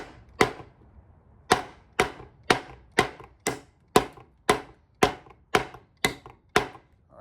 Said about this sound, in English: It's chopping through it pretty good.